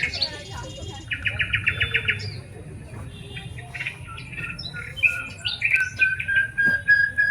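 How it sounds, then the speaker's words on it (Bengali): Birds chirp around nests woven from palm leaves, giving bright, close tweets and rapid trills in repeated bursts over a soft low murmur. "তোমরা এখন একটা পাখির আওয়াজ শুনতে পাচ্ছ কি?"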